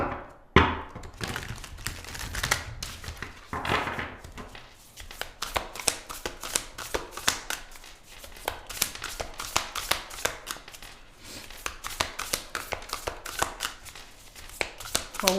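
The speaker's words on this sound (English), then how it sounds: "Let's get your tarot cards out here." Tarot cards shuffled by hand, a long run of rapid papery riffles and soft taps in an uneven rhythm, close up, with a few thumps of the deck near the start.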